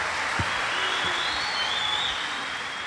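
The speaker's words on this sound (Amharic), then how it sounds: "ወንጌላዊ አበራ አንድ ጊዜ አጨብጭቡለት እስቲ" A church congregation applauds for an evangelist, a steady wash of clapping from many hands that holds at an even level, with a couple of low thumps near the start.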